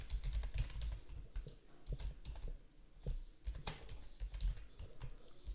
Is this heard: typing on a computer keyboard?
yes